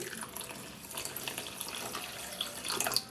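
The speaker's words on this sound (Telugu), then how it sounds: "పంచదార కరగడం కోసం కొంచెం ఒక టీ గ్లాస్ వాటర్ పోసుకోవాలి" Water pours in a steady, light trickle with small splashes onto sugar in a pan, close by and fairly quiet, continuing throughout without talking.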